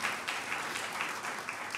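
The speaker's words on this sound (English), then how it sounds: "She deserves a clap." An audience applauds at an art exhibition opening, with dense, steady clapping that fills the room briefly and carries evenly to the end.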